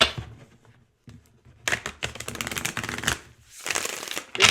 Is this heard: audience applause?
no